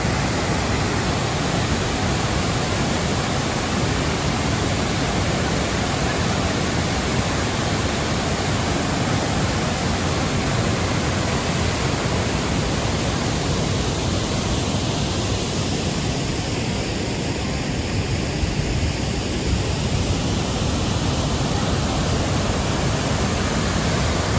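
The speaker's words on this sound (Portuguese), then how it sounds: "Foi exatamente aqui, ó, nessa cachoeira chamada de Dois Irmãos, que Zumbi dos Palmares foi capturado" Dois Irmãos waterfall in the Zumbi dos Palmares area pours as a constant, loud, dense broadband roar surrounded by nature, unbroken and with no voices throughout.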